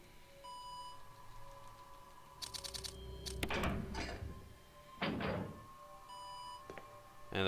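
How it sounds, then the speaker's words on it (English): Electronic beeps from door lock release levers in Resident Evil Remake HD, a few short tonal blips mixed with mechanical clacks and a louder clunk, fairly quiet with no speech. "those beeps sound like a speak and spell"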